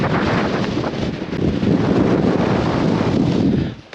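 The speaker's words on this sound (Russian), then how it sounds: "Похоже, ветер нам сегодня не даст записать видеоролик, друзья." Loud, rough wind buffets the microphone continuously on the snowy Crimean coast near Ordzhonikidze and Karadag, a dense roaring rumble that fades slightly at the end.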